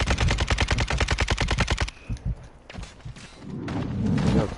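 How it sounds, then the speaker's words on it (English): A video game's automated gun turret lets loose a rapid, loud burst of fire lasting about two seconds, then stops, followed by a few scattered thuds and a rising rumble. "that's a damn turret"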